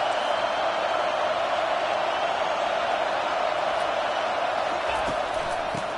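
A raucous crowd roars steadily through a college football game between Auburn and Oklahoma, a dense unbroken wall of noise from a packed stadium with faint claps and shouts near the end.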